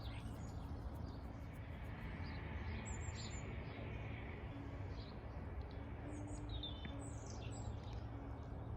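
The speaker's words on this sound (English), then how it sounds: "I love listening to those birds" Scattered bird chirps and calls sound faintly over a steady, dense background hum in an English cottage garden in January, with several short tweets spread across the clip.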